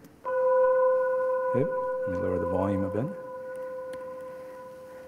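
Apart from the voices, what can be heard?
gravitational wave detector glass fibers vibrating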